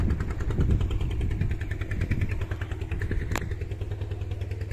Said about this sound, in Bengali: দেখতেই পাচ্ছেন এই যে নৌকা যাচ্ছে।